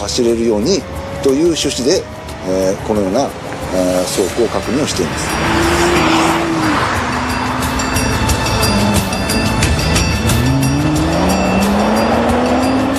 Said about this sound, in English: a team of 10 test drivers thrash 25 GT-Rs around this test track